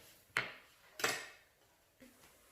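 Chilies clatter into a pan during home cooking, three separate knocking drops, the second loudest and the last softest, each followed by a short ring.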